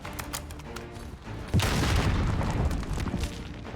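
A grenade detonates with a heavy boom in Call of Duty, followed by a dense rumbling spray of gunfire. Scattered shots sound beforehand.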